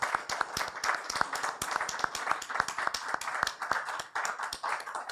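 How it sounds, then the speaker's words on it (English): A round of applause for panelists at a church symposium, a dense run of many hands clapping together that holds steady throughout without any talk. "A round of applause for our panelists."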